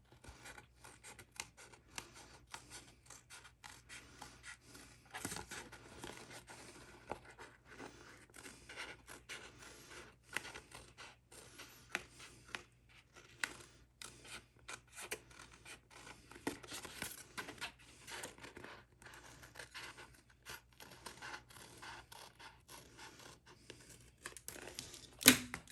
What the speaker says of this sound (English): So we're going to trim this excess off.